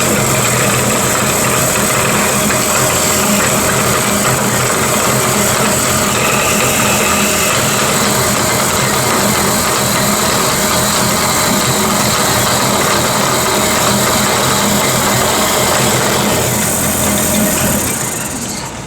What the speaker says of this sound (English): We will turn our saw on, line our line up, and begin pushing through.